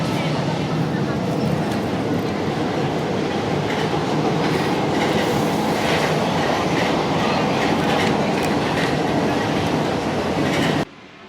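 A Paris metro train runs loudly and steadily for about eleven seconds, with dense rumble and rail clatter throughout, cutting off abruptly near the end.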